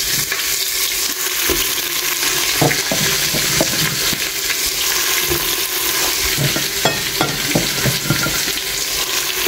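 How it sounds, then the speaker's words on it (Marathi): Onions frying in a pan on a gas stove while being stirred, a loud steady sizzle with frequent scraping and clacking of the spoon against the pan, close and unaccompanied by voices. "बेगीन बेगीन न्ही हांव ऑनियन घालता."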